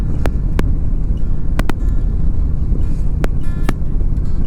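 A Harley-Davidson Sportster motorcycle out on a ride, with a steady low engine rumble under heavy wind noise and a few sharp clicks.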